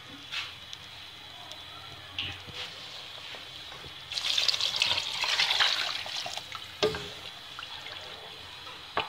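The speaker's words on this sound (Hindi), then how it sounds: "देखिए इसको पानी और ज़्यादा डालेंगे।" Water poured into a cooking pot holding an onion mixture, a splashing gush of a couple of seconds in the middle, with quieter clinks and handling noises before and after.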